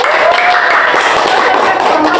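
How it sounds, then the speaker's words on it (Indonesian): An audience claps together at an Indonesian talk event honoring a batik ambassador, a dense, steady burst of applause that stays loud and even for a couple of seconds. "Beri tepuk tangan."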